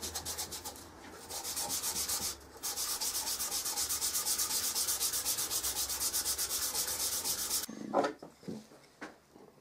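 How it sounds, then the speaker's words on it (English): A knife part is hand sanded on a flat surface with 400 grit cloth-backed abrasive, giving a fast, even back-and-forth scratching close up. It breaks briefly once and stops near the end, followed by a few soft knocks. "I just use 400 grit cloth backed abrasive to do that on a flat surface."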